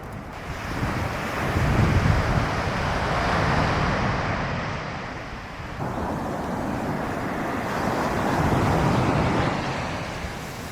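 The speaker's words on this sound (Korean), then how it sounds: "파도 보소" Ocean waves surge and wash continuously at the coast in Yangyang, South Korea, with broad roaring swells rising and falling under steady wind noise; no voices.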